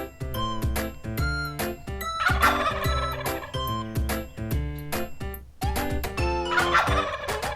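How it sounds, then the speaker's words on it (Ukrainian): Two bursts of rapid turkey gobbling ring out over a bouncy plucked musical backing, fairly loud and near, separated by a short pause. "Індик кулькає."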